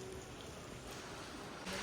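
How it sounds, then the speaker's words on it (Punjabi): Rain falling steadily as a soft, even hiss across the whole stretch, with a slightly louder patch near the end and no voices. "ਮੀਂਹ ਸ਼ੁਰੂ ਹੋ ਗਿਆ ਬਈ"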